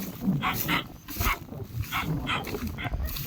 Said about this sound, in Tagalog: Ayun, aso.